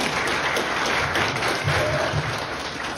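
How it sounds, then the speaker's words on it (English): Steady applause from a church congregation during a Sunday service, many hands clapping at once in a dense, even wash that holds at a fairly loud level throughout. "Can I have a clap for my four volunteers?"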